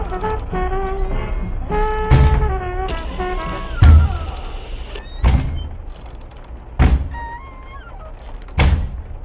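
Several heavy, hollow knocks land at irregular intervals, loud and close, with a drawn-out tonal sound in the background between them.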